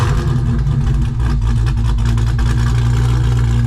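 A Chrysler 300 with a swapped-in Hellephant engine runs loud and close on a test drive, a steady, heavy rumble with a deep low-end drone and no talking over it.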